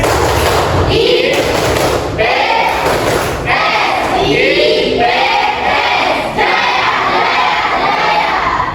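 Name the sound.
class doing a rhythmic clapping chant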